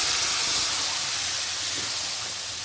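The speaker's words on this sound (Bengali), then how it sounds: "এখন আমি ফোড়ন দেব।" Spices for phoron hit hot oil after browned onions, producing a loud, dense sizzling hiss that starts strong and eases slightly over a few seconds, close and continuous.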